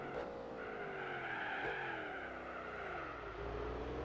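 Cars in the Gran Turismo 4 racing game brake hard into a set of tight corners, tires squealing and skidding in sustained sweeping tones over a steady engine drone, loud and continuous throughout with no talking.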